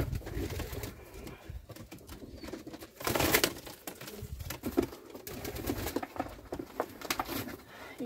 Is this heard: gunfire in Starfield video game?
no